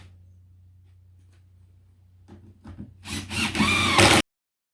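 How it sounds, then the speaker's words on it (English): Screws are driven into wooden boards of an inexpensive homemade planter box, a short close burst of drill whirring and grinding after quiet handling noises, ending abruptly. "We're just gonna put a couple screws in them."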